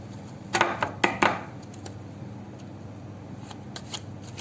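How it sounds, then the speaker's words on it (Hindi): A deck of cards is shuffled close by during a pick-a-card reading, with a few quick riffling bursts early on, then quieter card handling and light taps. "फिर से शफल करती हूँ, देखती हूँ।"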